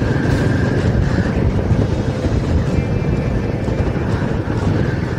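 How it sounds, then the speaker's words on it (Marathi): Strong wind roars steadily against the microphone during a motorbike ride before monsoon rain, a dense continuous rumble with no voices. "आता वारा पण खूप आहे."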